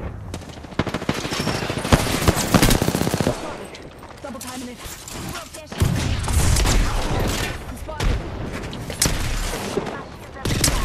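Automatic gunfire in the battle royale game Apex Legends, loud rapid bursts repeating in close succession with short pauses between, a voice talking briefly among the shots.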